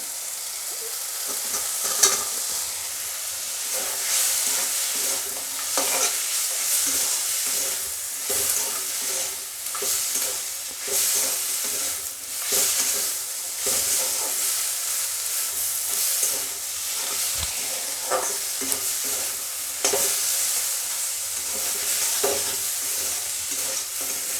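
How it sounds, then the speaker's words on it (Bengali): Drumstick flowers, potato and lentil dumplings fry with spices in a pan, making a constant close sizzle with frequent rhythmic scraping stirs, no voices. "বন্ধুরা দেখুন সুন্দরভাবে মশলার সঙ্গে আমার ফুল আলু বড়ি সমস্ত কষানো হয়ে গেছে"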